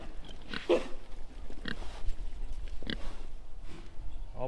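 Pigs running around in a farm setting with cows, giving short oinks, snorts and sniffs among shuffling and rustling nearby, with no talk.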